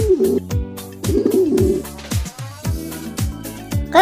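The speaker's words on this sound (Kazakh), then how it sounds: "Көгершін." A pigeon gives soft, throaty coos in short repeated phrases over a steady, beat-driven music bed, the calls mid-loud and close.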